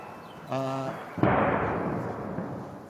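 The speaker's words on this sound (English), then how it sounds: "It's a very, very loud intercept there." A missile interception boom bursts loud and close, a sharp crack followed by a long rumbling decay; a voice briefly speaks just before it.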